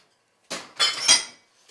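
Spatula or spoon scraping chocolate eclair mixture from a bowl, three short close scraping strokes followed by a faint tap.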